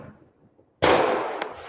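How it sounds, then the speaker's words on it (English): Fireworks go off in the background during a late-night boxing talk show, a sudden loud crackling burst followed by a lingering fizzing hiss and another sharp pop. "That's the fireworks in the background, by the way, in case y'all don't know what that is."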